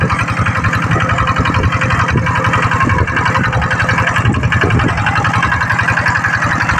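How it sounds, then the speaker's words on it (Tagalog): An 8 horsepower engine drives an irrigation water pump for a rice paddy, running loud and close with a fast, even putter that holds steady throughout. "bali 4 po yung ating pump, tapos 8 horsepower po na pupunta yung ating makina"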